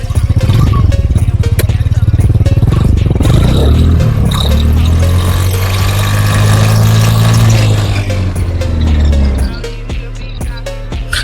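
Hero Xoom scooter engine revving as the throttle is opened, a loud, close buzzing note that rises and swells for several seconds, then drops back toward a steady idle.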